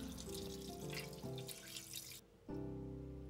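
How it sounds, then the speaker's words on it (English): Tap water runs steadily into a pot in a kitchen sink, a close, continuous splashing rush that briefly drops out near the end before resuming. "and add the water again."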